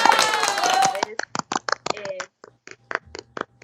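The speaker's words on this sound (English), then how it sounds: "Give this person a round of applause." Scattered, uneven handclaps from a small online audience on a video call for an end-of-year award winner, coming in short separate bursts after a voice speaks at the start.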